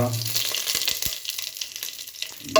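Spices and a bay leaf frying in a pan for carrot halwa, a soft crackling sizzle with a few thuds from the spoon stirring, close and moderately loud, with a louder scrape at the end.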